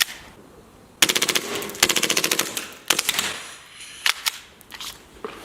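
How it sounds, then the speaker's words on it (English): A Glock 18C airsoft pistol fires in full auto: several quick rattling bursts of rapid pops, close and loud, with short pauses and a few single shots between them. "Glock 18C. Really fun gun. Of course, it's got the fun switch. So this is semi-auto, and this is full auto."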